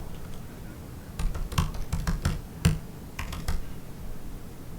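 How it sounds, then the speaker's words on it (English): Keys clacking on a computer keyboard during a coding session, bursts of quick irregular taps with pauses between them, close and fairly quiet with no talk. "Hate this keyboard."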